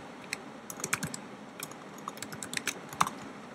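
Text being typed on a computer keyboard: a steady run of light, fairly quiet keystroke clicks in uneven bursts, with no talking over them.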